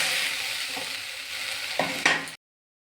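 Tomato paste with turmeric, cinnamon, cardamom, cloves and whole garam masala frying in a pan for jackfruit kofta curry: a steady close sizzle, then a couple of stirring scrapes before it cuts to silence.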